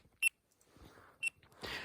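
A lost electronic device buried in deep snow gives two short, high beeps about a second apart. They sound faint and distant in a quiet outdoor setting, followed by soft rustling.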